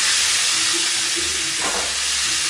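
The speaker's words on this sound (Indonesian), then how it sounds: "Terus kita akan goreng lagi sisa ikan asinnya tadi." Salted fish frying in hot oil in a home kitchen, a steady loud hiss and sizzle filling the whole clip, with a brief burst of added crackle partway through and no talking.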